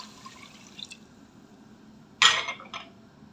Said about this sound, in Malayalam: ഈ സമയം നമ്മൾ എടുത്തു വെച്ചിരിക്കുന്ന ബാക്കി വെള്ളം കൂടെ ഒഴിച്ചിട്ട് നന്നായിട്ട് തിളപ്പിച്ചെടുക്കും